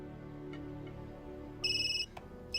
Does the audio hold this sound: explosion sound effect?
no